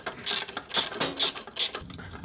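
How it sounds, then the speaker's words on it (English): A ratchet with an 8mm socket clicks in quick, close bursts while undoing the rear light cluster bolts on a Royal Enfield Interceptor 650 motorcycle. "you need an 8mm spanner or socket on the other side just to get these undone"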